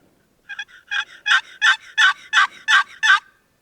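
Wild turkey gobbling during a spring hunt, a run of about eight loud, clear gobbling bursts in steady rhythm, each stronger than the last, sounding close despite the bird being high up in a tree.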